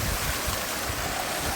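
Steady, dense splashing and rushing of water from the Mysore water dance fountain, continuous and close with no voices.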